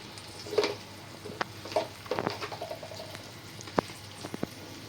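Spices with turmeric powder are sautéed in a pan for village-style egg curry, a low sizzle under scattered sharp taps and scrapes of a spoon, close and fairly faint, with no voices.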